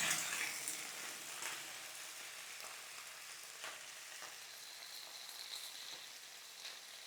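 Winter vegetables, cauliflower and potato, lightly stirred in a frying pan, giving a soft, fairly faint sizzle with occasional gentle scrapes and no talking.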